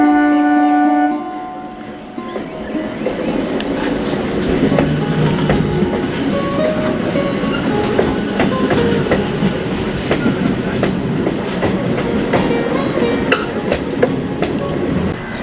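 The Jodhpur SF Express, ridden between DDU and Howrah, makes a loud, close rumble with rapid rhythmic clickety-clack over rail joints and crossings, and a brief tonal horn-like note at the start.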